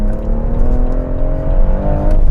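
A BMW fitted with an M Performance limited slip differential, rear-wheel drive, accelerates with a loud, close engine tone rising steadily in pitch over a couple of seconds.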